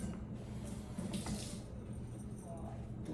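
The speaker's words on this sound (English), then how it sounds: "let me rinse the spoon off" Water from a kitchen tap splashes steadily as a spoon is rinsed, a soft continuous gush with faint metallic clinks, fairly quiet and close.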